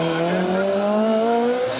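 A two-wheel-drive rally car, a Peugeot 206 GTI 180, passes at speed on an asphalt stage, its engine note held high and rising as it sweeps close by in one sustained, loud burst.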